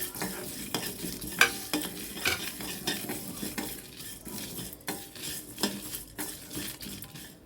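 Coriander seeds and cumin dry-roasting in a pan while being stirred, a close scraping rustle with repeated clinks of a utensil against the pan, no voices.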